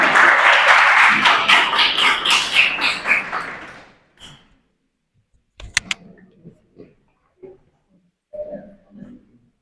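A short burst of group applause from a class, loud and dense, fading out after a few seconds, followed by scattered quiet sounds.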